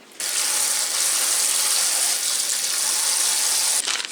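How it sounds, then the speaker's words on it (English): Cold tap water runs steadily into a sink to rinse something while making cannelloni, a continuous close hiss and splash that starts abruptly and cuts off near the end. "I'm going to rinse this under some cold water"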